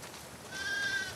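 A single faint, brief bleat from a sheep on a farm in The Last of Us Part 2, thin and high over quiet background ambience.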